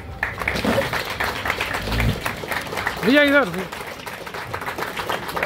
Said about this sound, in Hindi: जोरदार ताली बजनी चाहिए सिपाही सर के लिए।